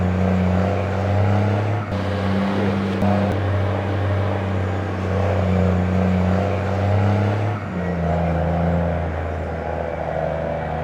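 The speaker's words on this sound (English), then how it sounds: "there's a dump truck coming up behind me" A dump truck's engine drones steadily, heard from inside a moving vehicle. The loud hum rises and shifts in pitch as it drives past over about ten seconds, with no talk.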